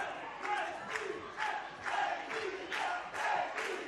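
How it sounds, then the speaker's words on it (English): Football crowd at a match between Paris Saint-Germain and Benfica chanting the club name, a rhythmic pulsing chant of many voices repeating in regular bursts, distant but full and steady. "you can actually hear that home advantage, the crowd chanting Benfica early on"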